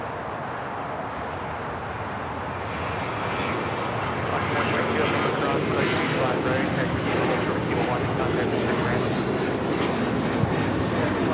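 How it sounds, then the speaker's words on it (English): A United Airlines Boeing 737-900ER departs Los Angeles LAX for Denver, its broad engine roar steady at first and then building louder after a few seconds, holding a dense, continuous rumble to the end. "This is United Airlines 1260 taking off to Denver on the 737-900ER."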